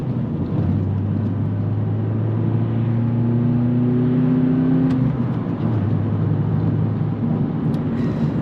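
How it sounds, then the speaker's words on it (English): A car engine drones steadily, its pitch climbing and then dropping briefly mid-way as revs rise and fall, loud and continuous without speech. "you gotta know how to rev match like that"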